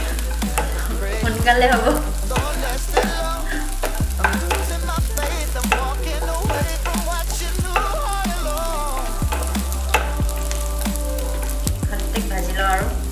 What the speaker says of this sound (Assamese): বাদাম আৰু কিচমিচো দি দিছোঁ ইয়াতে, ফ্ৰাই কৰি লওঁ।